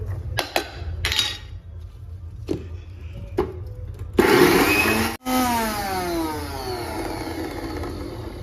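A mixer grinder crushes sesame seeds, garlic and green chilli: a few short bursts, then a loud sustained whir that drops out briefly and resumes with a steady rising motor tone, close up and alone.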